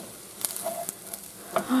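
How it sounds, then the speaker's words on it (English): Chicken fried rice in a pan sizzles faintly while a utensil scrapes and taps against the pan in a few short, scattered strokes at close range. "Alright, let's see if we can stir this all up now."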